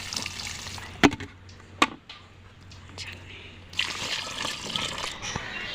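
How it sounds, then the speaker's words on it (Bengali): Flower plants, including newly planted roses, are watered in a home garden, with water trickling and splashing in uneven bursts, two sharp splashes early and a steadier pour later, close by, over a faint murmuring voice. "এই যে ফুল গাছগুলো তো জল দিলাম এখন"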